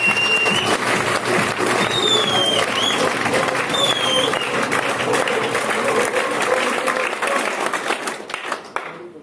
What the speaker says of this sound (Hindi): एक बार ऐसे जोश से आप अपने लिए ताली बजा दीजिए